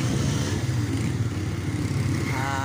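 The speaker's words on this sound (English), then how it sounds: "Motorbikes again everywhere. They are overspeeding." Motorbikes race along a busy bazaar street in Dadyal, their engines buzzing loud and close in a rough, continuous drone, with one engine revving higher near the end.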